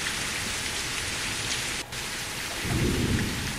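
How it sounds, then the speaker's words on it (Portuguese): Heavy rain pours steadily in a driving video game, with a deep roll of thunder swelling near the end. "não consegui abaixar o som ambiente quando se está chovendo"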